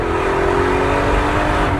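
A car accelerates, its loud engine droning steadily and close throughout, with a tone that rises slightly.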